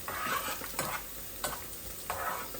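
Garlic, onion and green chili tempered in hot oil for greens give a continuous close sizzle, broken by four scraping stirs of a spatula at a steady, unhurried pace.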